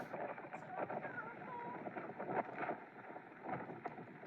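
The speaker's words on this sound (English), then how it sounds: "and still very windy. I just want to show you how windy is it" Strong wind blows outdoors on a street in Poland, near a Pizza Hut, and buffets the microphone with steady, gusting rumble and hiss throughout.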